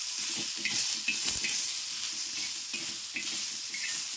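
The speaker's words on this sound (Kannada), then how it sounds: "ಈಗ ಶೌಂತಿಕಾಯಿ ರೀ ಇದೇ ಎಣ್ಣೆ ಒಳಗೆ ಈ ರೀತಿ ಸ್ವಲ್ಪ ಶೌಂತಿಕಾಯಿ ಹುರ್ಕೊಂಡು ಹೋಗ್ತೀನಿ ರೀ" Cucumber pieces fry in chilli-infused oil with a dense, continuous close sizzle, a steady hiss of bubbling oil that holds even throughout with faint stirring.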